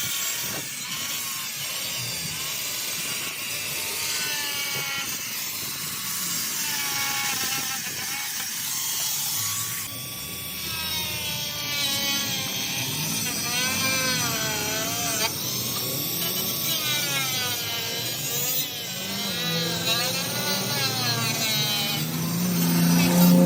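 A power tool trims the rear section of a car body kit with a continuous grinding and cutting whine that wavers in pitch and grows slightly louder toward the end.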